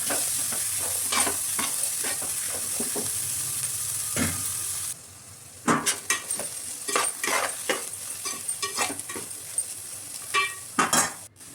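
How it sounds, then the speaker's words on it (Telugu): Small chopped carrot pieces fry and are stirred in a pan: a continuous sizzle broken by repeated spatula scrapes and clinks, with the frying dropping quieter midway while the stirring strokes keep going. "మంచిగా కలిసేలాగా మంచిగా కలుపుకోవాలండి"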